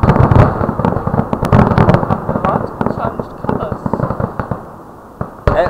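Rapid, loud crackling July 4th fireworks in Morehead, Kentucky, with dense popping and bangs, a sustained barrage that thins out toward the end, with voices faintly underneath.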